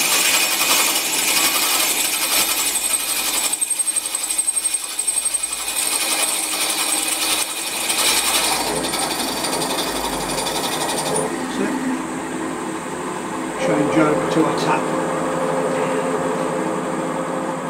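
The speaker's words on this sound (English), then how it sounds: "Just keep my arm on the drill coming through the other side." A power drill bores a tapping-size hole through a cast iron Norton motorcycle cylinder head, a loud continuous grinding whir that stays steady, then shifts in tone near the end as the bit breaks through the other side.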